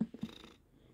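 A female cat on her owner's lap purrs softly and continuously, with a few louder rumbling pulses at the start before settling into a faint, steady purr.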